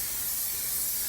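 Canola oil sprayed from an aerosol can to coat the inside of a Yoder Frontiersman offset smoker: a loud, steady, close hiss that runs unbroken through the whole moment, with no talk.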